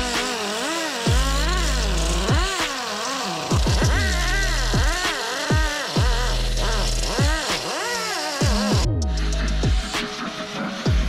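An angle grinder-style power tool grinding down and smoothing a surface before filling with epoxy, revving and dipping repeatedly in loud, close, continuous bursts with no talking.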